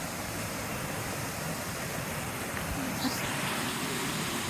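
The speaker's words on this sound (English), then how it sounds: "Look at that waterfall." Water from a river waterfall near an old mill rushes steadily in a soft, continuous wash, faint and even throughout with no distinct events.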